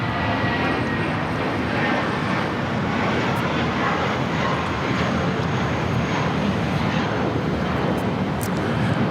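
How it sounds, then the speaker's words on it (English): JetBlue Airbus A320 in Brooklyn Nets livery taking off from LAX for Los Cabos, a steady loud broadband jet roar filling the whole clip without letting up. "1463 taking off to Los Cabos on the A320 in the Brooklyn Nets livery"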